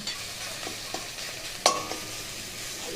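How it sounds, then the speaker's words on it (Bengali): Ginger and garlic with softened onion fry in a pan, giving a steady close sizzle broken by a few soft stirring scrapes and one sharp clink of the utensil against the pan. "এবার পেঁয়াজের সাথে খুব সুন্দর করে আদা রসুনটাকে ভেজে নেব"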